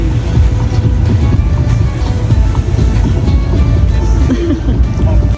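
Sea waves wash continuously onto a beach at sunset, beside candlelit tables set for a Ramadan iftar meal, a steady low roar with a faint murmur of people in the background.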